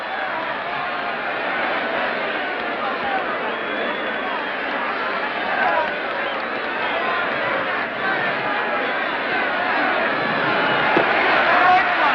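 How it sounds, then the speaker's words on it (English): A baseball stadium crowd roars steadily after a tying run in a pennant game. The dense, continuous noise sits under an announcer's voice on an old, muffled broadcast and swells slightly toward the end. "the crowd here's gone mad"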